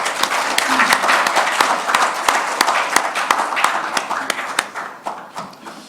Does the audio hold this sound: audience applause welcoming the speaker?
yes